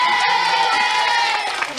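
A studio audience of children on a 1991 French TV youth show cheers and applauds, a loud, sustained crowd roar with shouts over it.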